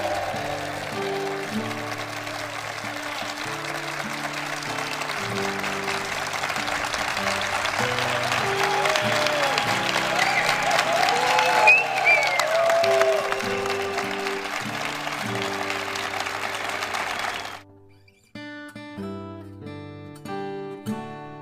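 Audience applause fills the Palácio das Artes hall, a steady dense clapping that swells toward the middle and holds loud for about seventeen seconds before cutting off abruptly, followed by quieter piano-like tones.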